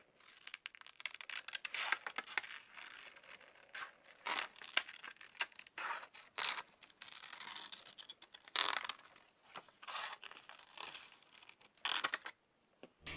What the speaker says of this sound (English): As you can see, it can cut straight lines and make curved cuts just fine.